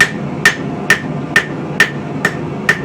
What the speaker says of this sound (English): we're going to come back with a nice light rounding hammer and just tune things up a little bit more